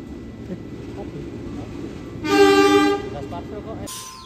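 An electric KRL TM 7000 commuter train departs Kampung Bandan station for Jakarta Kota, its horn giving a single clear toot over steady rumbling station noise, followed by a brief higher tone near the end.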